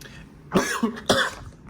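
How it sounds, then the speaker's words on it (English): Two short, harsh coughs about half a second apart, close and fairly loud, with quiet room noise between them and no talking. "I actually just started coughing out of nowhere."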